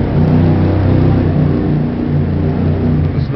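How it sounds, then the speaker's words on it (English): A John Deere X749 diesel tractor with a 46-inch snowblower runs steadily nearby, a loud, continuous low engine rumble with a mid-range drone and no pauses. "Here's a John Deere X749 diesel"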